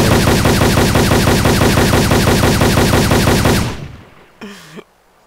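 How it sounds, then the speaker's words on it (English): Rapid, loud automatic gunfire from the video game Arma 2, a steady stream of shots for several seconds that stops abruptly, followed by a brief whooshing sweep. "I just hear explosions all around me."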